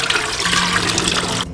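Tap water running steadily while soaked white fungus is rinsed, a short, continuous splashing rush that stops at the end.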